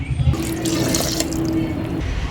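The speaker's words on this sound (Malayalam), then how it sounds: "ഇനി ഇതിലേക്ക് ആവശ്യമായിട്ടുള്ള വെള്ളം കൂടി ഒഴിച്ചു കൊടുക്കാം" Water poured into a pot for Karkidakam medicinal rice porridge, a close, steady splashing stream lasting about two seconds, with no one speaking.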